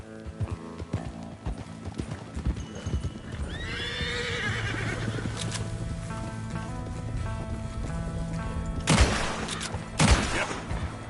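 Horses neigh and whinny amid clopping hooves in the video game Red Dead Redemption 2, with a couple of sharp louder bursts near the end over a steady background.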